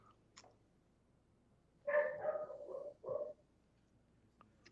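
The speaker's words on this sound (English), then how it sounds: "I think I hear somebody's dog." A dog barks in the distance, a short run of muffled barks followed by one more, faint against the quiet room tone of a municipal public hearing.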